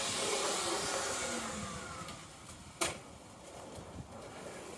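Gutter Vacuum Systems 35-foot power pole vacuum fitted with a small turbo nozzle runs as a steady, close, broadband whoosh, with a sharp knock near the middle and a smaller bump later.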